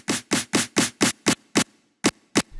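A short, punchy snare drum sample from UVI Drum Designer strikes about nine times in an even pattern, each hit crisp and dry with a quick decay, loud and alone with a brief gap near the end.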